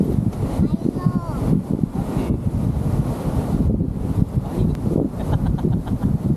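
Steady wind rushing across the microphone during a road trip in a Suzuki S-Presso, a broad low roar with gusty swells, while voices talk intermittently underneath.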